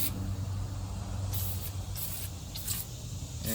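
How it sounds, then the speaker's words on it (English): Battery cleaner sprayed over the battery tray and cables of a John Deere 2155 tractor, short hissing spray bursts standing out over a steady low engine-like hum. "We're gonna spray all over this tray and these cables"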